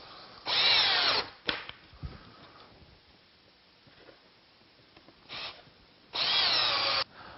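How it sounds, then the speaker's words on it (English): A power drill drives screws into laminate countertop build-up strips in two loud bursts about a second long, separated by quieter handling and faint tapping. "begin to screw the screws in"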